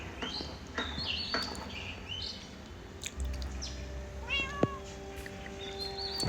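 A Minecraft cat meows several times in short, bright calls amid light birdsong and soft ambient game sounds, all fairly quiet.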